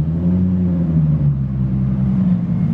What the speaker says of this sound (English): I like his car because it sounds like Brian Skyline.